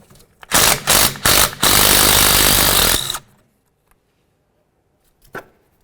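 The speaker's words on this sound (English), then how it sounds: "we're going to come right to the mounting point right here using a 12mm and remove this bolt" A 12mm power tool removes a rear brake cable mounting bolt on a 2011-2016 Hyundai Elantra, with a few short loud bursts leading into a sustained buzzing run, then near silence and one small clink.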